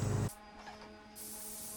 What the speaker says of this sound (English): Here you can see me spraying the upper cabinet shelves and doors.